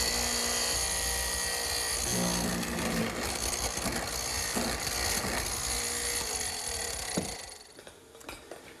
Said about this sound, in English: Here I'm making some mortises in the bottom rail, which will receive the spindles of the gate.